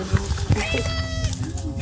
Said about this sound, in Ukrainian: С огромным котиком, пугливым очень, очень боится.